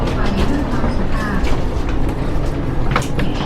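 Steady rumbling and rattling inside a moving train carriage bound for Luang Prabang, a constant loud mechanical drone with faint voices mixed in.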